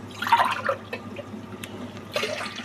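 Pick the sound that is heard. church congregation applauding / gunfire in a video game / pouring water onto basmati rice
pouring water onto basmati rice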